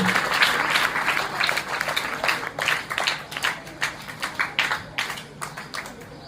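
An audience claps at a farewell ceremony, steady applause that breaks into distinct rhythmic claps and gradually thins out toward the end.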